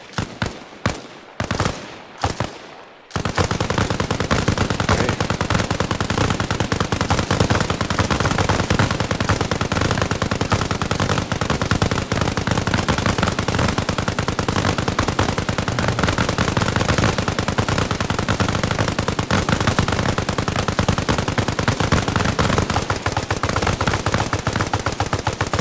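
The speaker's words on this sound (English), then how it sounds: "So just go ahead and start shooting at those targets" Gunfire in a video game shooting-range training session: a few separate loud shots, then a long, unbroken burst of rapid automatic fire aimed at targets, sustained and dense to the end.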